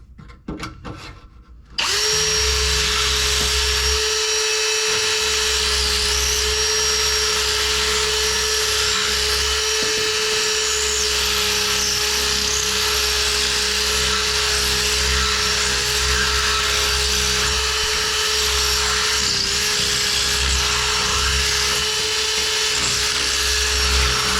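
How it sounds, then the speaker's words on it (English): A power drill bores larger holes for transmission filter kit hardware, a loud steady high-pitched whine that starts after a brief rustle and runs unbroken to the end, close by. "so I got to drill it bigger."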